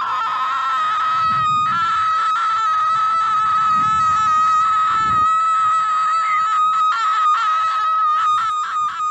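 At the end of a song, a loud, high scream is held for many seconds over the pounding electronic backing music.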